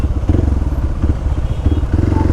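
Motorbikes straining up a narrow, steep road with the clutch slipped, engines chugging loudly in a steady pulsing rhythm close by, with some clatter mixed in.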